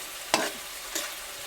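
Boiled mango chutney is cooked with a block of jaggery in a pan, with two brisk stirring scrapes rising over a low, steady sizzle, close and unaccompanied by speech.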